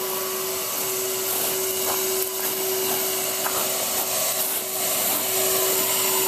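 A vacuum cleaner runs steadily and loud, drawing a length of string through its hose, with a constant motor whine and rushing airflow plus occasional rubbing scrapes throughout.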